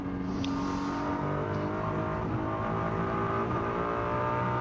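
GT race cars lapping the Macau Grand Prix street circuit during free practice, a loud, sustained engine howl with shifting revs as cars pass, steady and close with no clear talk.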